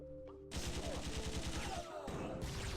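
Rapid machine gun fire in the Iji video game starts abruptly after a quiet moment, a fast steady rattle of close, loud shots with a brief dip near the end.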